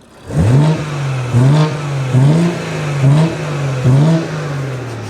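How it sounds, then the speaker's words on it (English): A BMW fitted with a 600 hp Supra engine revs repeatedly, about five loud throttle blips in a row with a deep, throaty induction roar between them. "now we've got some actual pure induction noise. So listen to this thing now."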